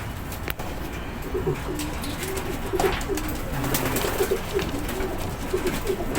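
A racing pigeon coos in short repeated bursts, soft and fairly close, over a steady background hiss.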